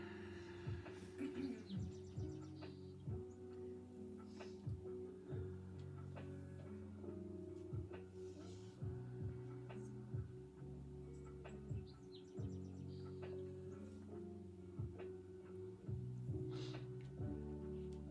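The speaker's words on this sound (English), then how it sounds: "Did you hear that bird out there?" Bird chirps and brief tweets come from outdoors at low level, scattered through a steady indoor background with some faint voices or movement.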